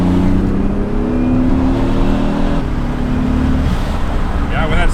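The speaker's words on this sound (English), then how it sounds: "when that second turbo kicks in, she's good" A Toyota Aristo with a sequential twin-turbo engine pulls hard under acceleration, its loud rising drone climbing in pitch from inside the car as the second turbo comes in, with road noise and a voice briefly over it.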